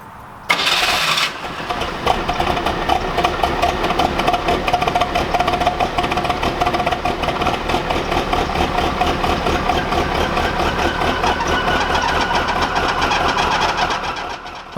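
A 1985 Pontiac Fiero 2M4 engine cranks briefly, catches, then settles into a steady, loud idle close to the microphone, with no one talking.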